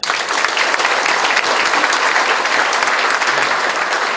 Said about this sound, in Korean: 강영규 회장님께 다시 한번 큰 박수 부탁드리겠습니다